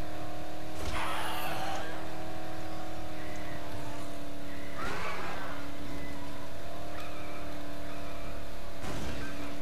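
Steady car engine drone from Death Island, a multiplayer video game, holds an even tone throughout, with three short bursts of rough noise breaking in at intervals, and a voice speaks over it.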